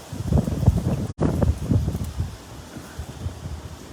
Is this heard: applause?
no